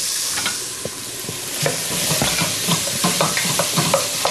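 Onions sweating in a hot pan for tomato pizza sauce give a loud, steady close-up sizzle, with occasional stirring scrapes over the continuous frying hiss.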